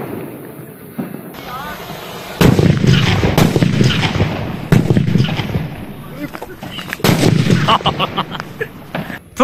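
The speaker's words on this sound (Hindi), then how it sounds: "अभी हमने नाजी में आग लगाया, काफी सॉलिड धमाका हुआ है" A series of sharp, loud bangs from Diwali sutli bomb firecrackers bursting in quick succession, with people talking and shouting between and over the blasts.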